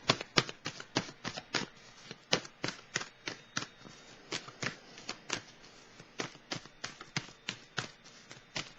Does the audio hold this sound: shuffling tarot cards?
yes